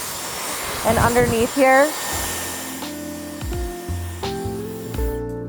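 Blow dryer with a cool-shot setting roars steadily while styling hair, a close, continuous airy whoosh; a person speaks briefly over it near the start.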